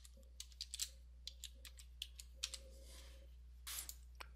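A computer keyboard being used to type a password, with a series of faint, light, irregular key clicks over a low steady hum, close and quiet, with no talking.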